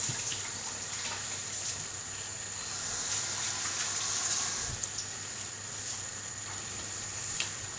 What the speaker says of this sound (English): Make sure you keep washing your hands all the time.